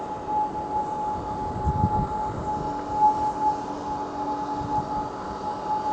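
An air raid siren wails steadily in the distance over Kuwait, a thin sustained tone sitting above a low rumble of background noise; no one speaks.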